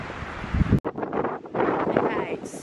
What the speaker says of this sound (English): it's probably windy, so I don't know how well you're going to hear it